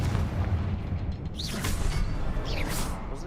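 Confringo fire spell blasting from a wand in the Hogwarts Legacy video game, giving a loud booming explosion with a whooshing burst mid-clip and a second blast near the end over a dense rumbling game soundscape.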